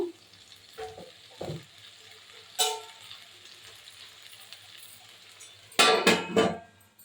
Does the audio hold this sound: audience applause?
no